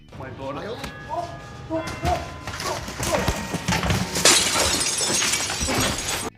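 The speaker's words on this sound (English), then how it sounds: "Notice how easily the glass shatters" Fake glass shatters with a bright, crashing burst late in a tense supermarket confrontation scene from The Irishman, following voices and scattered clattering.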